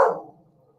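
A single bark from a dog named Cash, one loud close yap that decays quickly into quiet.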